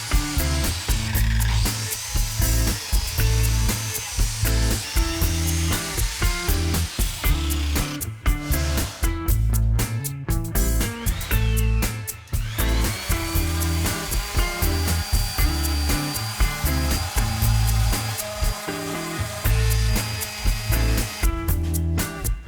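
A power tool whirs and buzzes loudly over a rhythmic electronic beat, with bursts of high whining and clattering close by, fitting a biscuit cutter slotting wood for a chunky industrial table built from roof joists.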